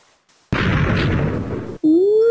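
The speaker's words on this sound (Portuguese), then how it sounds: "que explosão" A sudden loud Minecraft creeper explosion bursts in after a brief near-silence, roaring for over a second before cutting off into a steady high-pitched game tone.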